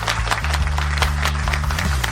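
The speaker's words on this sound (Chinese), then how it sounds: "让我们把最热烈的掌声献给我们当之无愧的小英雄糯米" Applause rings out for a young girl honoured as a hero at a ceremony with officials and guests, a dense patter of clapping over a low droning background, continuous and fairly close for a couple of seconds.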